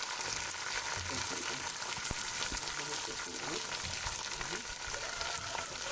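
Washed brown lentils are added to frying onions in a pot for Egyptian koshari, producing a loud, steady sizzle throughout with faint stirring.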